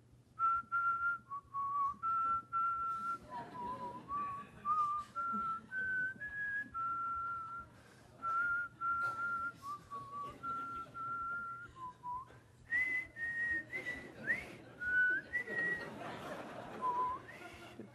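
A man whistles a tune in a lecture setting, a string of clear sustained notes that rise and fall in pitch with short pauses between phrases, faint room murmur behind.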